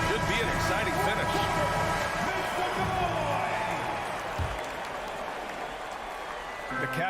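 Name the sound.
arena crowd applause in NBA 2K23 video game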